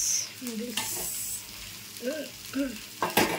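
Soup being stirred in a pan before noodles go in, a spoon scraping and swirling in a few distinct strokes over a soft sizzle, close and fairly quiet, with no voices.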